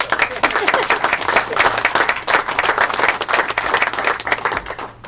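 Audience clapping at a homeownership celebration, a loud, dense round of applause from a nearby crowd that holds steady before tapering near the end.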